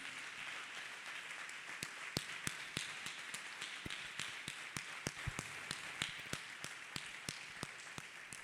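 A church congregation claps hands in praise, the sharp claps scattered and uneven, spread across the room at a moderate, steady level with no talking.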